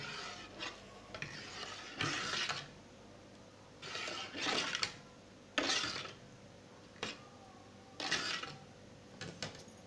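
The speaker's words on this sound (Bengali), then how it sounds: "এটাকে একটু নাড়াচাড়া দিব।" A spoon scrapes and stirs palm-fruit pudding with sago in a pot, in several separate bursts of rasping, rubbing strokes at close range, quiet and with no talk.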